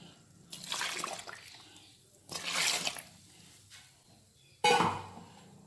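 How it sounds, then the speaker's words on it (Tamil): Water sloshing and splashing as a mixer grinder jar is rinsed in a home kitchen, three separate bursts of running, swirling water with short quiet pauses between, the last one sharper and louder, close by. "மிக்ஸி ஜாரை கழுவி விட்டுக்கணும்"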